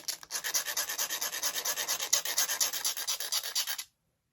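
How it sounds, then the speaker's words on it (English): Hand file rasping a burr off the end of a metal bar, a close, rhythmic series of about twenty quick scraping strokes that stop abruptly into silence. "he gave me the file to take the little burr on the end off"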